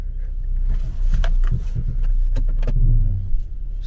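A car creeps forward toward an electric charging plug on a cold day, its low engine hum rumbling steadily at close range with small shifts in level, and no voices over it.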